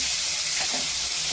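Cumin seeds and dried red chillies splutter in hot oil for a tamarind-water sambar, giving a steady, close sizzling hiss with faint crackles and no talk.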